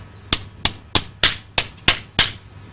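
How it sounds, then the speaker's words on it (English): Horseshoe nail ends twisted off with a hammer while a horse is shod, seven sharp metallic clinks at an even, unhurried rhythm, close and clear with no talk. "Cut it off with your hammer."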